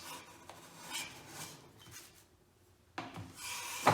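Hand plane cutting thick shavings from walnut, heard as a few soft close rasping swishes and scrapes with a short quiet gap and a sharper stroke near the end.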